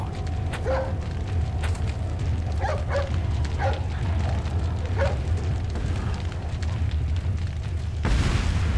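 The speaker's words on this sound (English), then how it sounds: "Hey, it's that dog." A dog in the video game Resident Evil 4 gives several short barks over a steady low rumble of game ambience, followed by a louder burst near the end, heard without talking.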